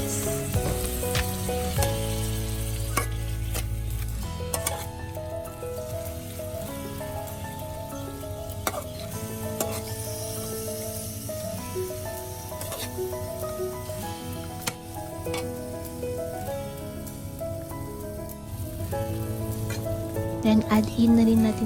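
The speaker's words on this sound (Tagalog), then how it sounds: "So, i-add na natin yung ating balon-balunan. And mix lang natin siya guys para ma-incorporate yung ating mga spices." Chicken gizzards sautéed and mixed with spices in a pan, loud continuous crackling sizzle with scattered sharp pops and utensil scrapes, close up over a humming low drone, with no talk.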